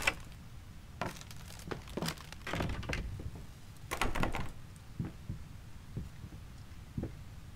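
Doors open in the horror video game Layers of Fear, heard as a series of hollow wooden thunks and creaks arriving in irregular clusters, fairly faint against a quiet room.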